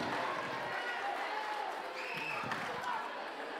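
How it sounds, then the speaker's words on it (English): Audience at a talk on animal diversity applauds and cheers for a volunteer who answered a quiz, a dense, steady wash of clapping filling the room, with a few voices rising briefly through it. "Round of applause for that man,"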